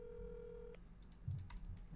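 Telephone call tones through a headset in a game: a steady tone cuts off, followed by a few short dialing beeps and faint clicks, quiet and close.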